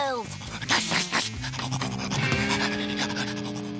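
Gnasher, a cartoon dog, pants heavily and rhythmically up close, mixed with animated sound effects and background music.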